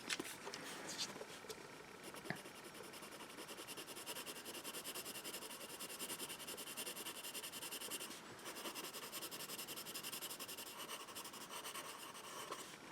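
A 2B pencil writes on paper with light, even pressure, making a soft, continuous scratchy rasp of close, quiet strokes over a faint room hiss, with one small tap partway through.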